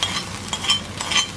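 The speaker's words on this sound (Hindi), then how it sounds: "और फिर फाइनली इसमें तड़का मारो।" Indian tadka tempering with curry leaves being poured into a dish, a steady hiss of hot oil with bright crackling pops, close and alone.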